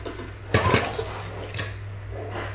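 Heavy thick-bottomed Japanese stainless steel pots are handled, giving a couple of close metallic clanks and clinks around the middle, then a lighter knock, over a low steady hum.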